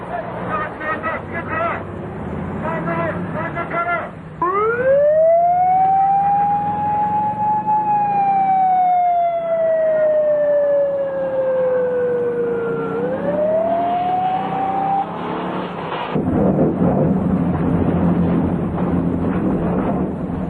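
A siren on a Korean army police motorcycle chasing a fleeing car wails up and down loudly and close over road noise and engine rumble, with narration running beneath.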